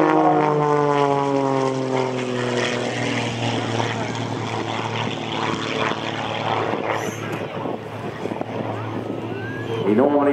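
Loud, close drone of a Pitts S2S aerobatic biplane's three-bladed propeller and engine, holding a steady tone that shifts in pitch as the aircraft hangs on the prop and then picks up speed again.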